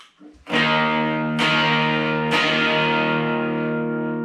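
Distorted electric guitar on the bridge humbucker through a Tube Screamer and distortion pedal into a small Yamaha THR5 amp, with three heavy fizzy chords struck about a second apart, each ringing out loud and unaccompanied.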